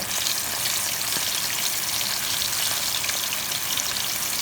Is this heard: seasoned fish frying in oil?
yes